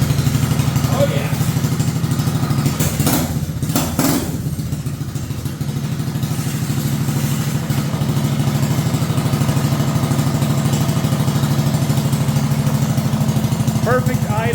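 A Honda engine on a mini bike idles close by with a steady low chugging rumble throughout, briefly broken by a few clattering knocks early on.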